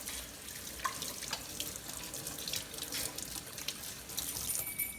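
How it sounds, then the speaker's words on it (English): Hands rinsed under a running tap at a sink, a continuous soft splash of water with small irregular spatters, fairly quiet and with no talking. "So now I'm going to go ahead and rinse it off. Just a quick little rinse."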